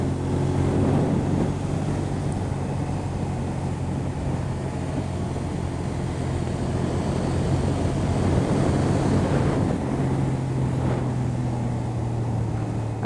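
A motorcycle engine drones steadily while the bike takes a corner, with heavy wind rushing past the microphone and no talk.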